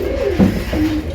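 Breeding pigeons in a newly built flying loft give short, low cooing notes, several murmured calls in a row, near and fairly loud, without any talking.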